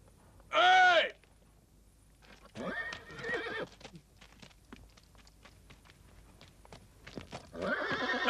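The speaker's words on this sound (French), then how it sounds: "Ces chevaux sont à nous?" Horses whinny loudly once near the start, then hooves clip-clop and shuffle close by, with a second neigh rising at the end and shouting voices in the background.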